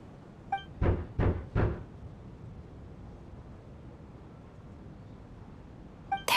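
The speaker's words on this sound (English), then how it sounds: "Or was that a knock at the door?" Three firm knocks on a door in quick, even succession, muffled and thudding against a steady windy hiss of a snowstorm, followed by a long stretch of only the wind.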